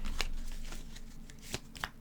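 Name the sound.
shuffling tarot cards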